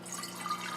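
Water being poured into a glass jar, a steady close trickling pour with no talking.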